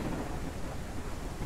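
Thunder rumbles steadily through a stormy Ranch Simulator game scene, a low dense roar mixed with rain and wind noise and no distinct single clap.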